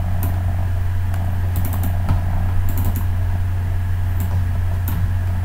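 Code being typed on a computer keyboard for a C# point-of-sale program, quick close key clicks in bursts over a steady low machine hum.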